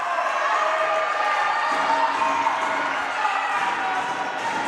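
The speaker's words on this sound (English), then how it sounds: "I guess the crowd riled up here" A crowd cheers and whoops steadily at a girls' high school basketball game between Ellenville and Webutuck, a loud continuous roar of many voices filling the gym.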